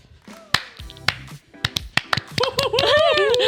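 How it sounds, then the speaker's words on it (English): A handful of people clap in scattered, uneven smacks, sharp and close, breaking into looser claps while voices talk and laugh over the last stretch. "Wait, why are we clapping?"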